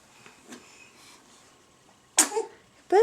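A baby's small sneeze bursts out sharply after a quiet stretch, followed by another quick sneeze-like burst close by.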